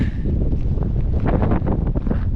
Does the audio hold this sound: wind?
yes